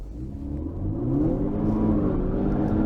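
A Ford Fusion 2.0 EcoBoost accelerates hard with wheelspin, its engine rumbling and rising in pitch as revs climb, loud and close, with no speech.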